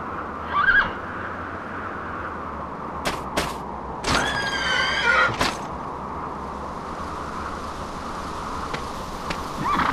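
A horse in the video game Dragon Quest VIII whinnies, with a short neigh near the start and a longer, wavering one midway, set against a low steady game ambience.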